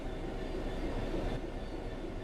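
A train in the video game Train Sim World 3 runs along with a dense, continuous rumble of wheels and rails, steady and close throughout the short stretch.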